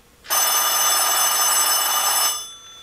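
A telephone bell rings in one continuous, loud metallic burst lasting a couple of seconds, then cuts off and fades, heard alone without any talking.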